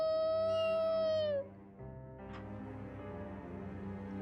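A single cat in Final Fantasy XIV lets out one long, loud mew that slides downward and cuts off, followed by a soft musical background.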